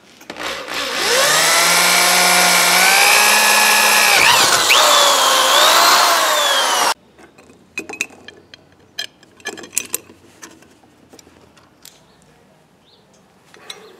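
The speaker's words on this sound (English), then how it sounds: "Let's drill this bitch." A power drill whines loudly for several seconds, pitch rising as it bites, then stops abruptly, followed by scattered clicks and handling clatter.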